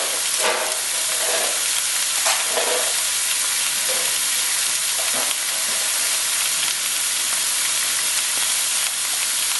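Garlic cloves sizzle and fry steadily in a hot pot for a pork hock and sauerkraut dish, a dense continuous hiss with occasional soft stirring knocks, close and fairly loud.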